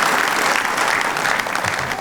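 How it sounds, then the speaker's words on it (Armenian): An audience at a women's club show claps together in sustained, dense applause for a performer, loud and close, holding steady throughout without voices standing out. "Եկեք ծափարենք եւ ոգևորենք Մարգարիտային"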